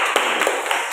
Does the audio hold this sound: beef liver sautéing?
no